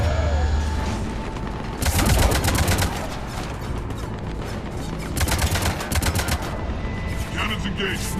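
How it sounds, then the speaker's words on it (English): Ship cannons fire in the Mass Effect 3 video game as two loud bursts of rapid, overlapping gunfire-like blasts over a steady background hum, with a sci-fi combat scene behind them. "Cannons engaged."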